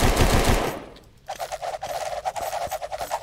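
A six-shooter in the Puppet Master game fires in loud rapid shots after a heavy opening burst, the reports coming in a quick uneven rhythm close up, with no talk over them.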